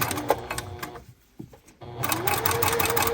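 A sewing machine runs a rapid zigzag stitch along bra edges, with a loud rattling burst, a brief near-silent pause with a small click, then the motor starting up again and whirring steadily.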